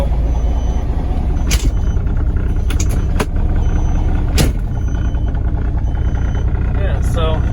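A 1996 Kenworth T800 truck driving, with a continuous low engine rumble, several sharp hissing bursts and clicks, and a voice briefly audible over the cab noise.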